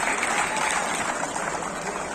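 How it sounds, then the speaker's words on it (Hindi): An audience at a women's singles badminton final applauds a good shot with steady, dense clapping that fills the whole moment, with a commentator's voice faintly underneath. "दर्शकों ने तालियां बजाकर इसका स्वागत किया"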